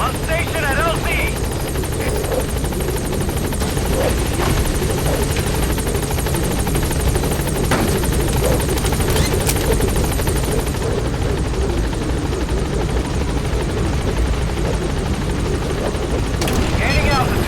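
Helicopter in Metal Gear Solid 5: The Phantom Pain arriving at a landing zone, a steady loud rotor and engine roar that holds throughout, with spoken radio chatter over it.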